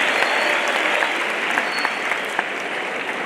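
Audience applause at a 2023 matric results speech honouring schools with a 100% pass rate, steady dense clapping from a crowd filling the whole stretch, with no talk over it.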